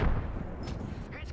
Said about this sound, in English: Taking fire! I'm going in! Throwing grenade.